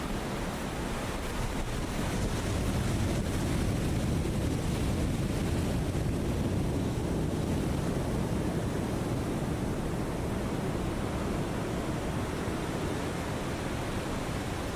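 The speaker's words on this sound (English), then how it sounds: "those are just sea waves" Sea waves and wind in the naval video game War on the Sea, a loud, continuous rushing wash of surf noise with a steady roar throughout and no voices.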